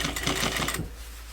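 A sewing machine stitches a lantern sleeve seam close to the edge. A fast, steady mechanical whir runs for about 0.8 seconds and then stops abruptly, leaving only quiet room noise.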